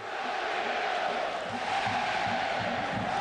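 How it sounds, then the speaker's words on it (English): Dense roar of a stadium crowd at Kinnick Stadium during a night college football game between Ohio State and Iowa, a steady wash of cheering with no breaks. "Fabulous crowd on hand here tonight."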